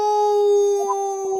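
A person imitates a howling dog, holding one long, steady, tonal howl loud and close for over a second, with a small breathy break near the end.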